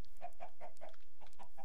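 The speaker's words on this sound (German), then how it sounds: "Da ist ein Huhn." Repeated clucking from a chicken in the Minecraft Pixelmon modpack game, a steady run of short, evenly spaced cackles heard alone and fairly loud.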